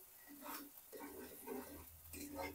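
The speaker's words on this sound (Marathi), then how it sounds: "चांगलं एकदा त्याला हलवून घ्यायचं" A spoon stirs a village-style shev bhaji vegetable stew in a pot, giving soft repeated scraping sweeps with faint sizzling, quiet and close, in three or four strokes.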